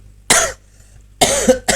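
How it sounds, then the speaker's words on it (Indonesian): A person coughs in three sharp, close bursts, one short hack followed by a pause and then two more in quick succession, at an airport arrivals area during the return of Makassar hajj pilgrims. "Ini lagi batuk nih guys kita."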